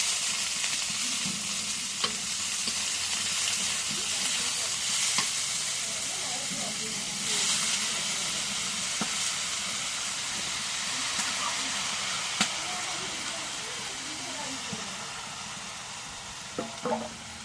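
Leaves fry in a hot pan with a constant loud sizzle and steamy hiss, punctuated by occasional sharp taps and scrapes of stirring.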